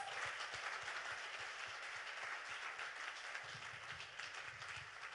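A church congregation applauds and cheers as first-time visitors stand up, a dense, steady wash of clapping from many hands filling the room at even loudness throughout.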